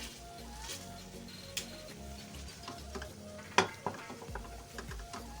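Food sizzles and fries in ghee in a home kitchen while a spoon stirs and scrapes the pan, with a few sharp clinks against the metal and a low, steady frying hiss.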